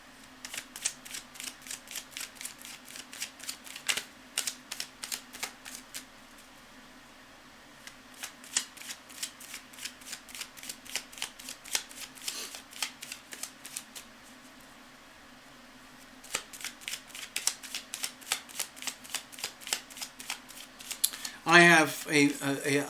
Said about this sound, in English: I'm going to shuffle it up a little bit more.